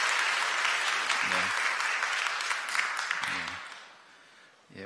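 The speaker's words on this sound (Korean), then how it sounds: "여러분들 환영의 박수 부탁드립니다" Church congregation applauding in welcome during a Sunday service, a broad, steady wash of clapping that fades toward the end, with a few low voices murmuring underneath.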